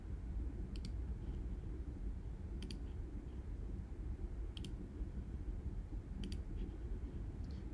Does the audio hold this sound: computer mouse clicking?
yes